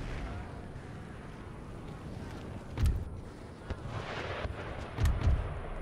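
Artillery cannons firing in a siege battle in Empire: Total War, two heavy booming shots a couple of seconds apart over a low rumbling battlefield bed.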